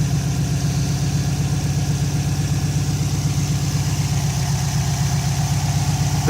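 A 2004 Subaru STi engine idles close by in a steady, loud, rhythmic burble that stays even and unchanging from start to finish, with no voices.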